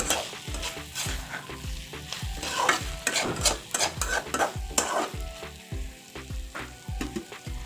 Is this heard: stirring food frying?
yes